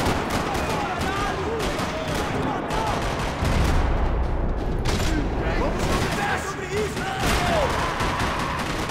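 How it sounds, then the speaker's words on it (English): Dense, continuous gunfire in the video game Max Payne 3 rattles nonstop at high volume in a parking lot, overlapping bursts like a sustained firefight, with a voice faintly mixed in. "Another parking lot rattling with gunfire"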